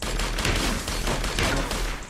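Rapid gunfire from a newly tried gun in a mobile online shooter game, a dense fast burst of repeated shots at moderate loudness running continuously for about two seconds.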